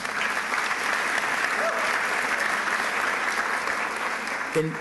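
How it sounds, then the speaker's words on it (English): Dense, sustained applause from a large audience at a high school graduation ceremony, steady and even throughout, with faint voices near the end. "You can give yourself a round of applause."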